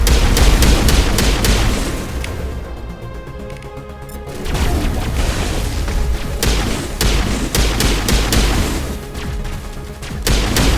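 Gunfire in a sci-fi shooter game rattles out in dense, loud bursts of rapid shots and booming impacts, dropping briefly to a quieter rumble before the fusillade picks up again.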